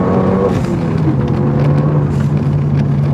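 A Renault Megane 3 RS Trophy engine pulls hard under acceleration, loud and close from inside the car, with a steady droning roar for a few seconds.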